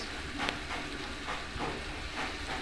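Chopped onions fry in a pan for a country chicken curry with bean seeds: a steady hiss of sizzling oil broken by a few soft, rhythmic scraping strokes as the onions are stirred, close up and with no talking.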